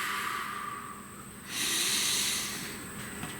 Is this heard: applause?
no